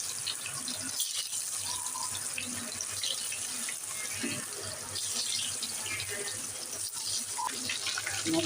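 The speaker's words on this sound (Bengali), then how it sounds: "চিকেন কাবাবগুলো দেখুন আমি দিয়ে দিচ্ছি আস্তে আস্তে বিসমিল্লা তেলটা গরম" Chicken kebabs fry in hot oil with a steady, fairly quiet crackling sizzle that runs without pause from start to end.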